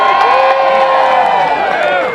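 Thousands of people at the Groundhog Day ceremony in Punxsutawney cheer loudly as the groundhog is woken from his burrow. A dense, continuous roar of shouting and whooping fills the whole stretch.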